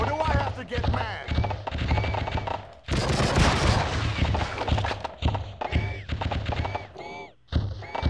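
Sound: automatic paintball gun firing in video game True Crime: Streets of LA

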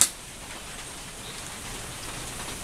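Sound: rain on a rainy day

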